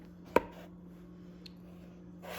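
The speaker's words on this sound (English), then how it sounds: "we're gonna cut the potato in half and then put it flat side down" One sharp knife stroke halves a potato on a cutting board, a single crisp thud near the start and then quiet room hum, with a faint tap a moment later.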